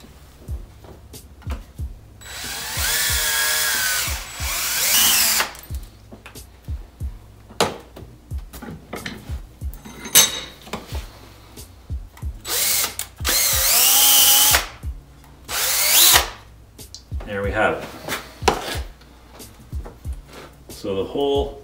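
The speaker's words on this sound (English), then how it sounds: "I'm going to put in a 1/8 pipe plug, so I drill the appropriate size hole." A power drill bores a 1/8-inch pipe-plug hole into a homemade deep-sea submarine actuator, with several loud whirring bursts separated by pauses, clicks and handling noises, and a voice heard between runs.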